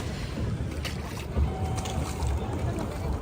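A boat glides across Nainital lake, with water lapping and wind buffeting the microphone in a steady wash, faint voices and a brief tonal hum mixed low beneath.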